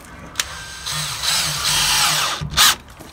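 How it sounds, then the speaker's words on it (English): Power drill driving screws through a window flange during an exterior window installation, a short tap then a sustained whirring run that slows and bogs, ending with a brief louder burst; no talking. "A couple of screws across the bottom to ensure that that won't move."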